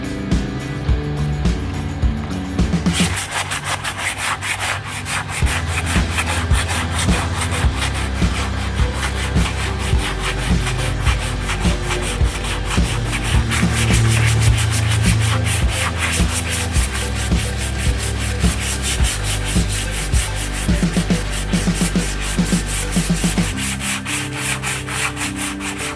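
Power sanding of a bathroom shower pan's filled patch, a loud continuous abrasive whir and rubbing grind at close range, steady throughout with slight changes in pressure and pitch, no talking.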